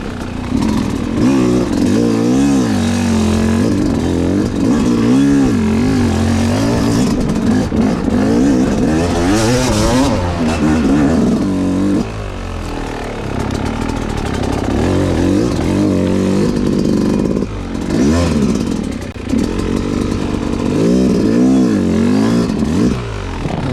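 A hard enduro dirt bike engine revs hard and loud while riding, its pitch surging and dropping through repeated throttle bursts, with brief clattering from the ride.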